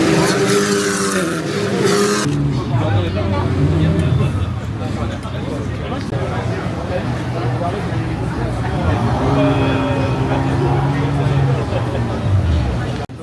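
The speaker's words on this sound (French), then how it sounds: "Ici du coup on est sur la course de F4 là, qui a commencé depuis 20 minutes, il y a déjà 2 safety cars là" Formula 4 race cars running under a safety car at a French circuit, engines droning and shifting in pitch as the cars pass at moderate pace, heard alongside nearby talk and crowd babble.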